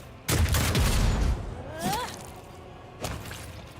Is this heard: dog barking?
no